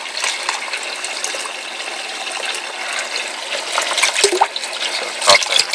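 A MaxiJet pump pushes water through an aquarium sump refugium with a DIY PVC overflow and waterfall, giving a steady close rush and trickle of flowing water, with a few brief splashes and gurgles near the end.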